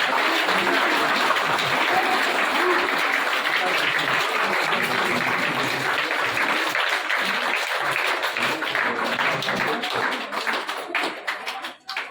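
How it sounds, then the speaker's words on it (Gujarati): Students at a primary school admission festival applaud a prize-winning classmate, a dense, sustained round of clapping that stays loud and even before thinning out into scattered claps at the end. "ઇનામ છે ઇનામ આપણે ભાઈ તાળીઓ પાડીશું"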